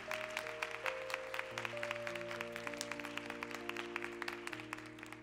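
Congregation clapping to bless a departing member at a Korean church youth candlelight service, a steady patter of applause with soft organ or keyboard chords sustained underneath, moderately quiet throughout.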